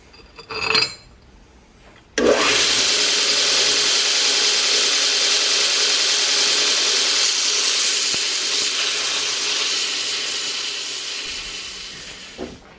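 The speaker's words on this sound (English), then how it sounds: "I'm going to go ahead and grind on this one a little bit." An angle grinder bites into the steel of a coil-spring hardy tool, taking a hump off flat: a loud, steady, bright grinding whine that holds for about ten seconds, starting after a brief earlier burst, then slowly eases at the end.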